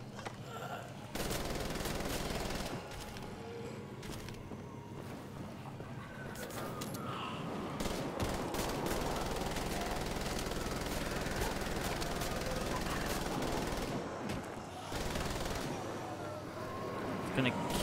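Sustained gunfire in the Wolfenstein The Old Blood video game, a dense rattle of shots and explosive bursts running nearly continuously at steady loudness, with a voice speaking briefly over the fighting.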